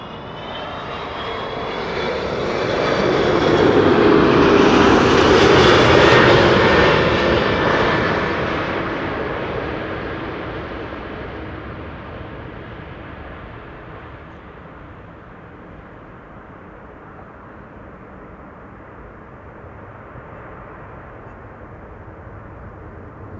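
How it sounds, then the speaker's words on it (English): A Turkish Airlines Airbus A330-200 arriving from Istanbul at Amsterdam Schiphol roars as it passes close overhead, its engine noise swelling to a loud peak and then fading slowly into a long distant rumble. "This is Turkish Airlines flight 1951 arriving from Istanbul,"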